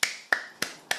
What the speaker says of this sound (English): And tapping your way down this other arm.